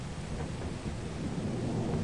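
A dense, continuous rumble of thunder in the game Lethal Company, broadband and steady like a rolling storm with rain, loud and close with no voices.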